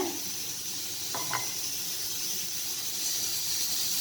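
Beef biryani mixture with added salt being stirred in a pot, giving a steady low sizzle and hiss with a couple of faint scraping strokes near the middle, close and moderately quiet with no talking.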